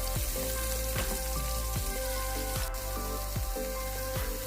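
Cabbage dumplings frying in a preheated pan of sesame and vegetable oil, with a steady close sizzle and repeated soft pops and crackles spread through the clip. No voices are heard.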